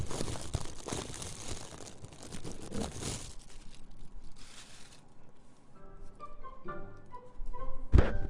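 Plastic vinyl crinkles and rustles close to the microphone in an ASMR session, bursts of crisp crackling that thin out into sparse quieter rustles, ending with a sharp louder crinkle.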